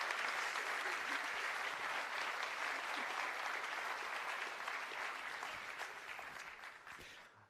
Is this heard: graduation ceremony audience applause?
yes